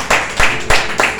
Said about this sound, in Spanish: Den un fuerte aplauso a Cristo